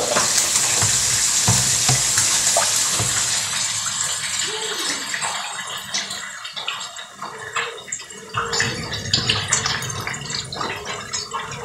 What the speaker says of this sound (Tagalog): Nagkiprito na ako ngayon ng tilapia.